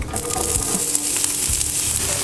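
Onions sizzle loudly in oil on a Blackstone griddle for Philly cheesesteaks, a dense, close, continuous frying hiss with faint scraping underneath.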